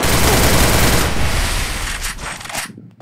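Sustained automatic gunfire from a shooting video game, a dense, loud, continuous burst of shots that fades out at the end, with no talking.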